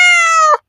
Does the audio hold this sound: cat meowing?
yes